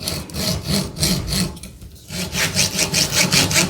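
Hand saw cutting a wooden window piece clamped in a vise, with close, rhythmic push-pull rasping strokes, a brief pause midway, then more quick, even strokes.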